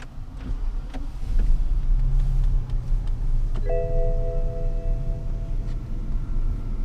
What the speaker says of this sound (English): this morning is the very first cold start ever in this car with me in the driver's seat